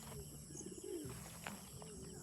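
Pigeons coo from a backyard pigeon coop, soft low calls rising and falling for about a second, faint against steady outdoor background noise with a few light chirps.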